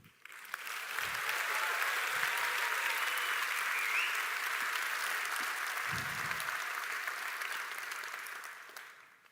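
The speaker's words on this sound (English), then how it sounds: "Come on, let's cheer." A graduation ceremony audience applauds at length, a loud, steady wash of clapping from a large crowd that holds for several seconds and then tapers off.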